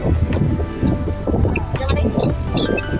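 Steady gusting wind buffets the microphone on a yacht in Singapore, a constant broadband rumble with a few faint voices in the background.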